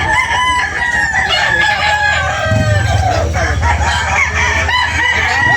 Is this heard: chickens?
yes